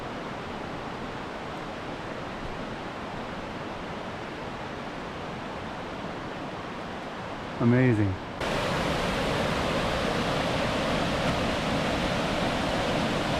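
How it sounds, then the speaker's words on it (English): Waterfalls flowing in a forest at Cathedral Falls, where two falls converge, make a steady broad roar of rushing water that grows louder near the end, with a brief spoken exclamation over it. "Two waterfalls converge right here."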